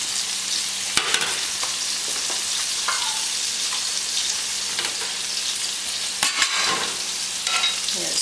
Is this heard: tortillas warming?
yes